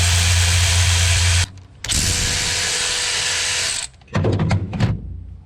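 Powered ratchet working on a Kawasaki Mule engine, two long loud buzzing runs with a brief pause, then a few short rattling bursts, close and alone.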